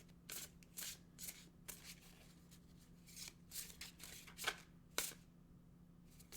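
An oracle card deck is shuffled by hand at close range, with soft riffles and flicks in irregular bursts over a low background hum.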